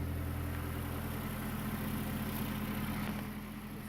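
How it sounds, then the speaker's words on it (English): Mazdaspeed3 turbocharged engine idling right after a turbocharger replacement, a steady low rumble with a faint even pulse, constant and unbroken, heard alone at moderate distance. "It's idling, fired right up."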